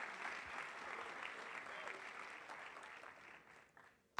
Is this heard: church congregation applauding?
yes